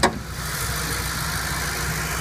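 A 2009 Ford Crown Victoria Police Interceptor V8 idles steadily under the hood with a low, even hum, after a brief sharp transient at the start; the car has a slight antifreeze leak near the thermostat housing.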